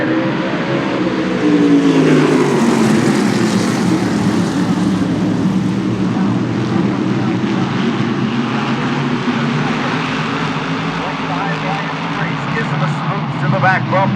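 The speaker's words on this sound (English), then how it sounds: "Here they come off turn number 4. Looking for the green. Green is out." Modified race cars at Stafford Speedway roar past together on the green flag of the Twisted Tea Open Modified 80, a loud sustained engine drone with rising revs, under an excited commentator calling the start.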